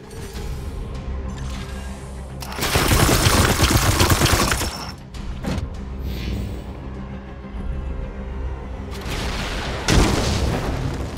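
Gunfire, booming blasts and bursts of weapon fire in the video game Warhammer 40k Chaos Gate Daemonhunters. Several loud volleys are separated by quieter stretches.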